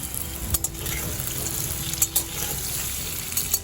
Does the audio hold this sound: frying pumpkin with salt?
yes